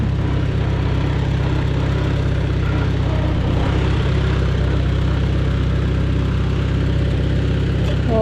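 A Farmall Super A tractor engine with a newly tightened spark plug runs in a steady, loud low drone. It chugs continuously and close up, with no talk over it.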